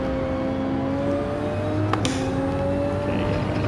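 Race car engine accelerating in a racing video game on Suzuka Circuit, a steady rising whine that holds a droning pitch with a brief sharp burst near the middle, moderately quiet and alone.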